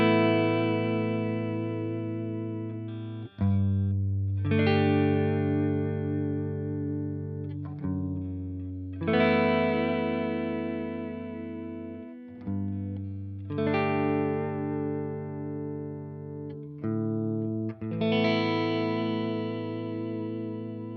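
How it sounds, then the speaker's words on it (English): Clean, dry electric guitar played through an Axe-FX III amp and cabinet model, a few sustained chords struck one after another, each ringing out and slowly decaying before the next, with no delay or reverb. "all we're going to hear is a clean, unprocessed signal through the amp and cab."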